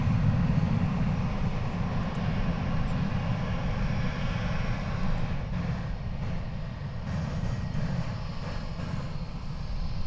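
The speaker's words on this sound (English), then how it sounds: "Like this United bird, an Airbus A320, is going to Denver." United Airlines Airbus A320 airliner at DFW Airport, a steady low jet-engine roar that holds even and continuous for the whole stretch with no voices.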